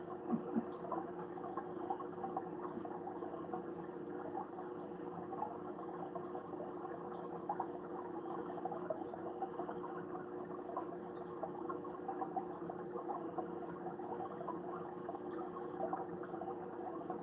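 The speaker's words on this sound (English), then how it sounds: "listening to the tank bubbles from the air thing will make you go to sleep" Steady, continuous bubbling and gurgling from an air pump in a home water fish tank, a soft watery texture holding level throughout with no talk.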